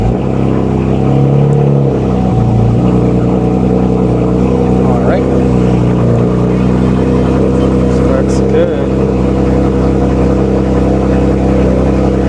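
An old car's engine running steadily at idle, a loud low rumble with harmonic hum throughout, with a brief rise early on; voices talk faintly over it.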